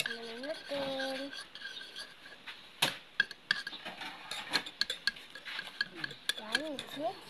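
Cheese and breadcrumbs tossed together in a bowl for fried cheese, with soft scraping and clinking stirring sounds, a few sharper knocks, and brief bursts of voice over the top.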